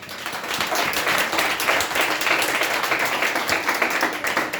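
A church revival congregation claps and cheers together, a dense, steady wash of applause that runs loud and unbroken from start to finish with no clear voice on top.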